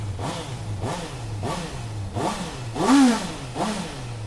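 A motorcycle engine revs in a string of about seven quick, throttle blips while warming up, each one rising and dropping back to idle, loud and close, with no talk over it.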